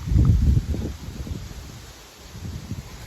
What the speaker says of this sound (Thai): อยู่ในโทรศัพท์จะได้ยินเสียงลมหมดนะ ลมแห้งๆหมดอยู่ในวงต้นยาง